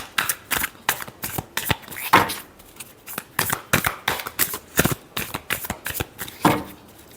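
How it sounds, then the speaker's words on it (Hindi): Tarot cards being shuffled close up in quick, crisp riffles and slaps, a steady run of sharp papery bursts with no talking. "last shuffle"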